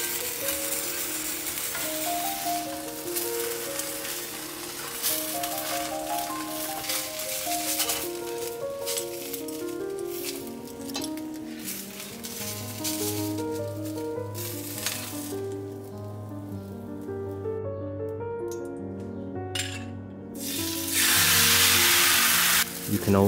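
A banh xeo crepe sizzling in a hot pan, a soft hiss and crackle running under gentle background music, with a louder burst of spattering near the end.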